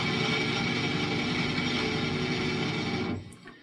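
Electric guitar rings out a full power chord from a song, a dense, warbly, distorted sustain holding at steady loudness before it is abruptly muted.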